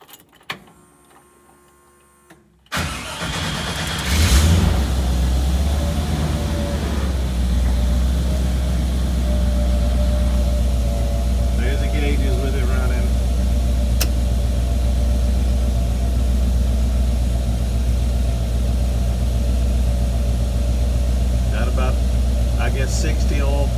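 Engine of a 1946 Studebaker pickup truck cranks briefly, then catches and settles into a steady, loud low rumbling idle that runs on alone for about twenty seconds.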